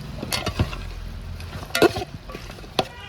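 Chicken, potato and carrot pieces are stirred in a pan, with a few distinct scrapes and knocks of a spoon against the metal over a low, quiet sizzle.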